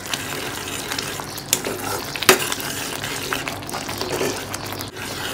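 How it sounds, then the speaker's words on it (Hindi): Spices being stirred and mixed in a pan over a low gas flame for chickpea chole, close scraping and soft sizzling with a few sharp clinks of the spoon. "इन सबको हम अच्छे से मिक्स कर लेंगे"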